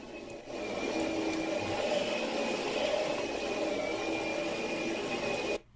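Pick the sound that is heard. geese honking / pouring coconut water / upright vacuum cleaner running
upright vacuum cleaner running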